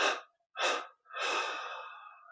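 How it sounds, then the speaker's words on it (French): Deep breathing during a guided meditation: two short breaths out followed by a longer, drawn-out exhale, close and soft with no talking. "on prend une inspiration profonde, 3 expires pour abandonner tout effort"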